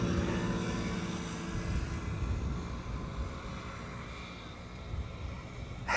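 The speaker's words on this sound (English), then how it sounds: "Egypt Air is rolling, Wolfgang says" An EgyptAir airliner rolling for takeoff at Amsterdam Schiphol gives a steady, broad jet engine roar that holds throughout and swells slightly at the close.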